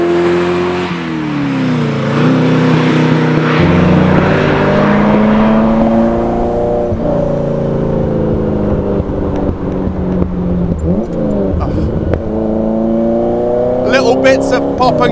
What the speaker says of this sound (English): Bits of pop and crackle as well when you're going with this exhaust.